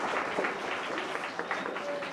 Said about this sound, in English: Can we just have a big round of applause